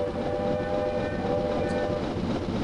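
The Clan Fraser steam locomotive running an express passenger train in Train Simulator 2018, a loud steady rumble of the passing engine and carriages with a sustained tonal hum, and a brief whistle-like note partway through.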